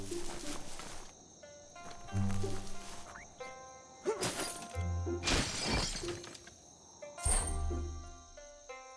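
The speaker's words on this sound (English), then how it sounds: "You shouldn't worry about smashing up the box." A wooden box is smashed apart in the video game Biomutant, giving several loud, sharp cracking and shattering bursts at irregular intervals over game music and ambience.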